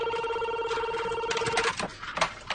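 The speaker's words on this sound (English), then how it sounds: "Started with the phone calls." A telephone rings steadily in a repeating electronic tone for most of the stretch, then cuts off as other indoor noises follow, with no speech over it.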